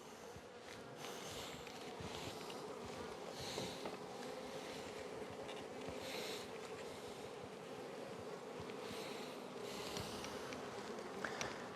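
Honeybees from a strong package colony about eight weeks old buzz around the open hive, a soft, continuous droning hum that swells and fades slightly as insects pass close.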